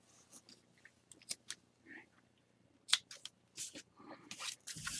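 Scissors snip through a long tail of yarn on a loom knitting project, giving a few short, crisp close cuts scattered among faint handling rustles, with no talking.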